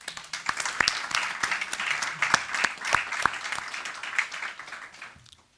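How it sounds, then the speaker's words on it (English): A round of applause at a school board meeting honoring classified employees, a room of people clapping steadily with a few sharp individual claps standing out, holding for several seconds before trailing off. "So if we can give them a round of applause."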